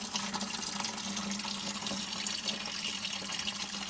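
Coolant draining from a 2016 Chevy 5.3 radiator during cooling system removal, a steady faint trickling and splashing stream of liquid with no break.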